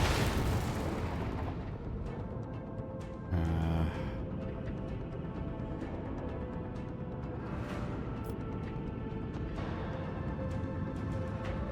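Starship macro cannons fire in the Rogue Trader video game, opening with a loud broadband blast and rolling into continuous rumbling booms and crackle that persist to the end.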